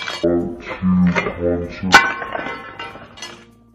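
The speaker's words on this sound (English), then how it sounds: "The glass just broke." A drinking glass shatters in one sharp, bright crash near the middle, briefly cutting through a person talking close by in an indoor room.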